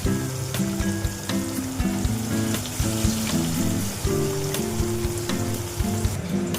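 Bhetki fish bones frying in hot oil until reddish-brown, a continuous dense sizzle and crackle heard under steady background music.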